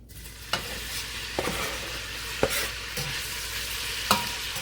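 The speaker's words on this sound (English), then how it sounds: "Once the butter's melted and the oil's heated up, add your chopped bacon." Chopped bacon sizzles in melted butter and heated oil, the pan fat crackling steadily at close range. A spoon scrapes and stirs at several evenly spaced moments, and no voice is heard.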